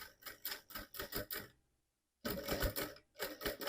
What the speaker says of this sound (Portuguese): Vou passar essa costura aqui com vocês rapidamente.